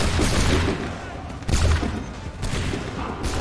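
Musket volley fire in the video game Assassin's Creed 3: loud, dense crackling gunfire with heavy booming bursts near 0.1 and 1.5 seconds, continuing as ragged shots throughout.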